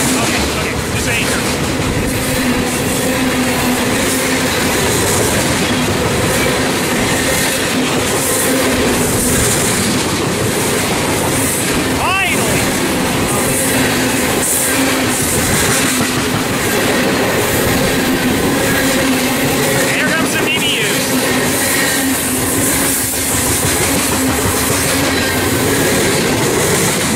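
A train rolls past a station at Ontario and Riverside, loud and close, with continuous rumble, clattering wheels and occasional squeals across the whole stretch.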